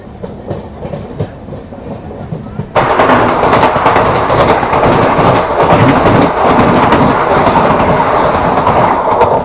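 Rewa SF Express on the Anand Vihar Terminal run, heard from inside an AC coach: quieter rolling at first, then a sudden jump to loud, dense clickety-clack and wheel rumble that continues steadily.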